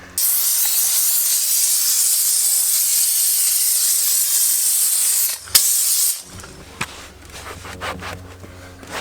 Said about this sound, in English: close it and just let the steam do its magic